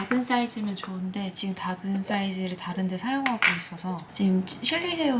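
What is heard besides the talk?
None of the usual background noises is heard.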